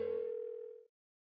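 A single steady telephone tone holds for just under a second, then cuts off abruptly into silence, as a call goes unanswered.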